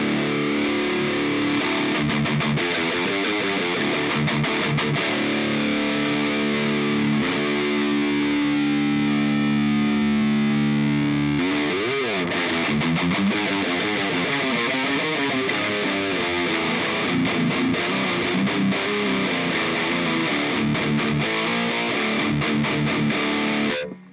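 An electric guitar played through an ENGL Powerball Custom distortion pedal gives a thick, heavily saturated tone, with sustained chords and chugging low riffs that carry on loud and unbroken.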